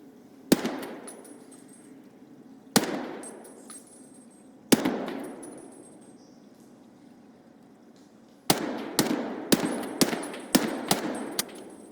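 Single gunshots in a video game, each a sharp crack trailing into a long echoing decay, spaced apart at first and then fired in a quick run of shots near the end.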